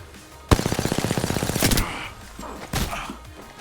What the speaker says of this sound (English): Taking fire, brothers. Shit, I'm getting shot from everywhere!